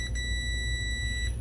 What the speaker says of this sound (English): go to continuity, beep beep, and then, hey, that's ground.